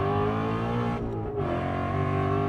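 An 800+ hp Ford Mustang RTR Spec 5 engine drones loudly from inside the car on the Nürburgring, a steady close-up roar that dips briefly on a gear change or lift before pulling hard again.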